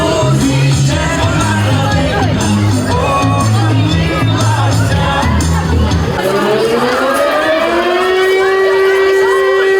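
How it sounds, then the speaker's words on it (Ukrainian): Civil defense air raid siren sounding at a school celebration, first under a lively crowd of children shouting and singing, then rising into a loud sustained wail that continues alone. "Та навіть веселе свято у навчальному закладі перервала повітряна тривога."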